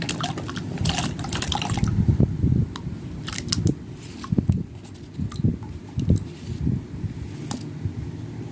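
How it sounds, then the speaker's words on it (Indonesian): Potatoes dropped into a pot holding four liters of water for boiling, with irregular close splashes, knocks and clunks of handling throughout, loud bursts between quieter gaps; no voices. "Nanti kentangnya kita masukkan ke dalam air. Ini untuk direbus ya."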